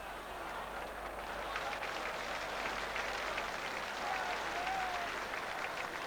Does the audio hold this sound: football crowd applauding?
yes